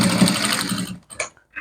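A sewing machine runs a short backstitch on fabric for a small pet dress, a quick burst of rapid, close motor-driven stitching that stops after about a second, followed by a few light clicks.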